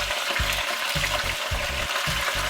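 Lamb ribs and potatoes sizzle loudly in a kazan while being turned, with bright continuous frying crackle and a regular rhythm of scraping, clunking stirs repeating about twice a second.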